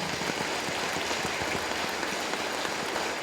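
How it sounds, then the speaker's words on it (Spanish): A congregation at a solemn Mass for the Señor de la Exaltación applauds, a dense continuous patter of many hands filling the space evenly. "vamos a darle un aplauso al Señor de la Exaltación"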